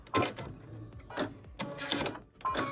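A sewing machine back stitches while piecing a quilted stocking, short bursts of mechanical stitching with clicks and whirring that start and stop several times in a row, close and moderately loud with no talking.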